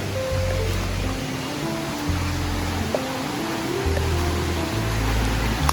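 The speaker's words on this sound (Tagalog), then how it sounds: "Malakas ng agos. And malinaw yung tubig." Strong river current flowing near a waterfall in rural Calauag, Quezon, a steady broadband rush of water running unbroken and fairly loud, with a few low rumbling swells along the way.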